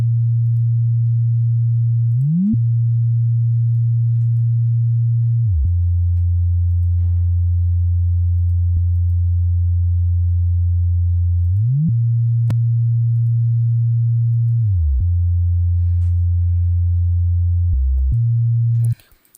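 A deep sub bass made with the FL Studio 3X Oscillator stock plugin holds long, smooth, steady low notes. Brief pitch glides link each change, and the sound is loud and alone before cutting off at the end.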